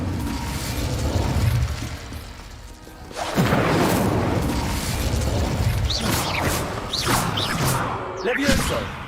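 Incendio fire spell explosions in Hogwarts Legacy: a rumbling build, then a sudden booming burst followed by further crackling blasts and whooshes, loud and close, with a voice speaking in between.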